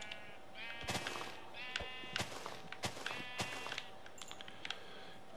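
Sheep bleating in Minecraft: a series of loud, wavering bleats, several overlapping in quick succession, close and clear with no talking.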